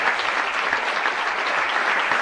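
Audience applause fills the hall at the 1998 Goldsmith Awards, a steady, dense clatter of many hands clapping continuously and fairly loud throughout, with no voices rising above it.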